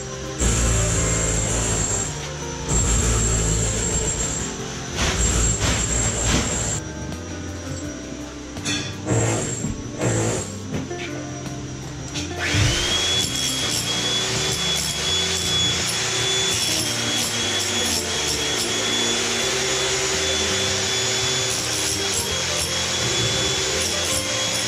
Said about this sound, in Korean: 현관하고 화장실 바닥 타일들을 데몰리션이라는 작업으로 다 뜯어줍니다